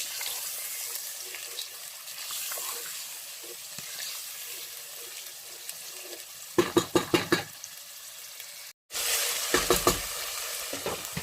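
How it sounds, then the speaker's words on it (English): Ingredients for efo elegusi stirred in hot oil in a pot: a steady low sizzle broken by two bursts of quick, rhythmic scraping strokes, with a brief dropout between them. "I add everything so into the oil. So I'm going to mix."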